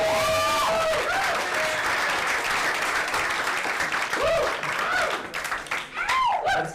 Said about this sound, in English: clap it up nice and loud for Greg Needham, everybody.